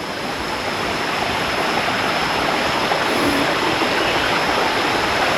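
A small river in southern Thailand rushes in a steady, loud, continuous wash of flowing water, close by and alone without any voices.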